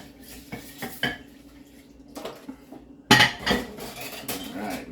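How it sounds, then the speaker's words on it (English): Dishes and silverware are washed by hand, with scattered clinks and clatters that turn into a louder burst of clanging cutlery and pots midway, close by and without speech. "I'm doing my dishes."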